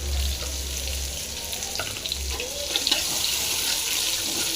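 Shallots, chili and crushed garlic fry in a pan for a drumstick-leaf stir-fry, giving a steady close hiss of sizzling oil with faint scraping, no talk.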